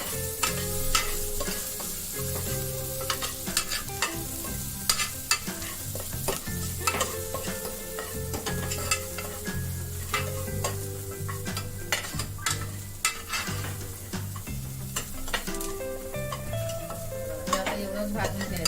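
Oil sizzling and frying in a pan for a Malvani Maharashtrian potato curry, with steady crackle, frequent stirring scrapes and clinks of a spoon against the pan, close and continuous.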